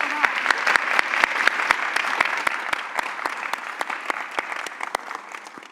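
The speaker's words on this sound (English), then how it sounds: "Let's clap it up." Dense applause from a panel audience at a women's economic power event, steady for several seconds with a few sharp, close individual claps standing out, easing slightly toward the end.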